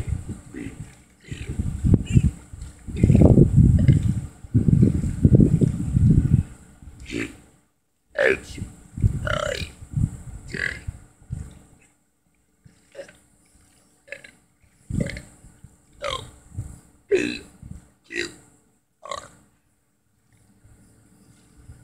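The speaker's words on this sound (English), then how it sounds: "now we gotta burp the ABCs" A person burps repeatedly while sitting in a wheelbarrow of ice, a long loud run of deep belches early on followed by a string of shorter, spaced burps, with some voice sounds between them.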